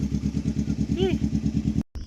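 A motorcycle near Mount Bulusan idles close by with a rapid, steady, pulsing thump. It stays loud and even, a voice speaks briefly over it, and the sound cuts off abruptly near the end.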